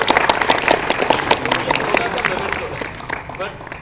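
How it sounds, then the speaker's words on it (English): An audience at an NIT Agartala placement event gives a round of applause, dense clapping from a crowd heard up close that gradually thins out over a few seconds, with a voice mixed in. "A great round of applause for"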